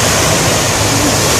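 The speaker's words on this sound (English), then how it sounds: "The waves are quite high" High sea waves crash on a beach in a loud, steady, roaring wash of surf with no break.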